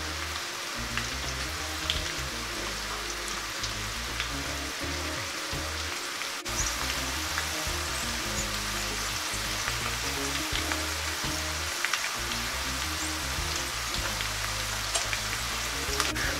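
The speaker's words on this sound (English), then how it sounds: "I really want to get that potato sear on the bottom" Potatoes sear in hot fat in a pan, giving a steady, dense sizzle and crackle that stays close and constant throughout, with a low background hum and no talking.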